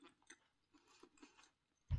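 Someone chews a crunchy fried salmon spring roll in close, quiet bites, several soft crunches in a row, then a louder bump at the end.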